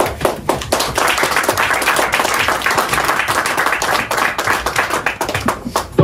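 Church congregation applauding together, a dense, sustained burst of many hands clapping at steady loudness for several seconds, with no speech over it.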